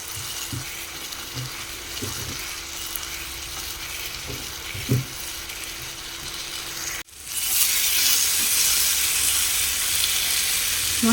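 Tomato paste masala fries and sizzles in a pan for egg kosha, a steady close hiss with light stirring knocks, then after a brief cut the sizzle returns louder and brighter, no talking.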